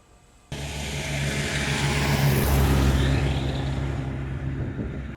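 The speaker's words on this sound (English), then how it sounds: "you hit the starter with your foot to start it up" A 1929 Ford Model A hot rod engine cranks and fires up with a sudden onset, settling into a loud, low rumbling idle that swells slightly and holds steady.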